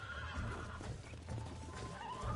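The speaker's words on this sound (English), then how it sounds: "with breaking in a horse" In the Red Dead Redemption video game, a horse being broken in neighs and whinnies while hooves clop and stamp beneath a dense, continuous mix of game sound.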